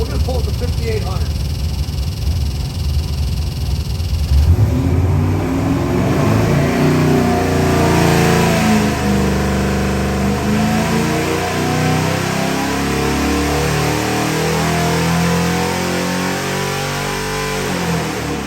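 A 351W-based 427 cubic-inch stroker V8 built for a 1969 Mach 1 Mustang, on a dyno: loud idle, then a long, rising full-throttle pull with a climbing engine note that holds near the top and eases back at the end.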